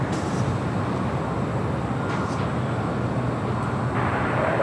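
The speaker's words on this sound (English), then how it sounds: "that was the Southwest Airlines Flight 2038 heading to Albuquerque at a 737-700" A Southwest Airlines Boeing 737-700 passes at LAX as a steady, broad, fairly distant jet roar that holds evenly throughout.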